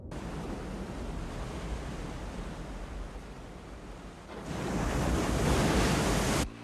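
Roaring ocean surf as a comet fragment strikes the Atlantic in a Discovery Universe asteroid impact documentary, a dense continuous wash that swells suddenly louder midway and then cuts off.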